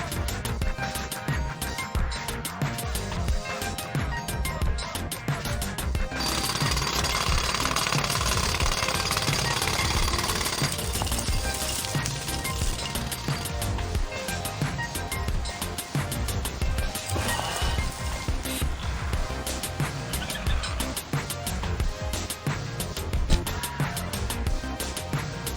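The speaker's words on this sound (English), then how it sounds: "I need more time to finish hammering the hole!" Rapid, continuous jackhammer-style pounding as a hole is hammered out in the TMNT Mutants Unleashed video game, loud and steady throughout with rumbling game effects and no speech.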